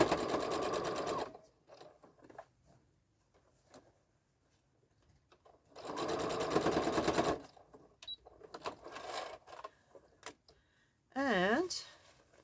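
Sewing machine stitching around the top of a mini tote bag: two sustained bursts of rapid mechanical running, the second ending with a short whirring wobble, separated by quiet pauses and light handling.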